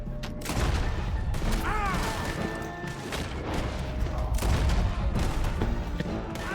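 Slow-motion gunfire from a gunfight in the PC game Ballade a Cheval: a run of close, dense shots and crashes through the clip, with faint chirping sweeps and a voice now and then.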